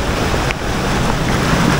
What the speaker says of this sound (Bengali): হয়তো ঝর্ণার আওয়াজে আমার কথাও শোনা যাচ্ছে না আপনাদের।